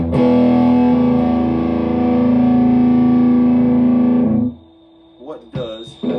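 Electric guitar played through a JHS Rat Pack distortion pedal, a loud, sustained distorted chord ringing for about four seconds, then cut off and followed by a few short, quieter picked notes.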